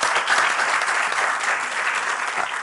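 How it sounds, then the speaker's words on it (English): Audience applauding a discussion panel at a conference on religion in society, a dense steady wash of many hands clapping at close range for nearly three seconds. "Please give them a clap."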